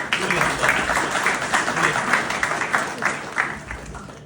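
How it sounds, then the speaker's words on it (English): Students at VJTI applauding after an introductory speech, a thick, continuous wash of clapping from a large hall crowd, loud and sustained throughout. "So again, give a big applause."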